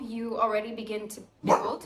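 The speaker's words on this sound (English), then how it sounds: "Sorry, that's my dog." A pet dog gives a couple of short barks and yips indoors, close by, overlapping someone speaking.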